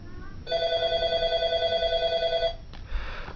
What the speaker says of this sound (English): I'm hoping my phone ringing isn't getting this video